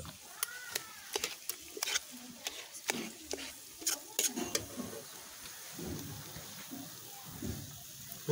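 Blood poriyal, village-style Tamil blood fry, stirred in a pan, giving scattered scraping clicks and soft patter with a faint sizzle underneath, up close with brief voice sounds.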